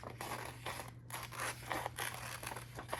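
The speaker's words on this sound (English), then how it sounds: "I'm going to cut this circle out" Scissors cut a paper circle out of a template sheet, giving a run of close, crisp snips and crinkling paper rustles in quick succession, with no talking.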